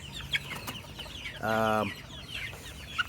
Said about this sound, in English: The little guy's crowing.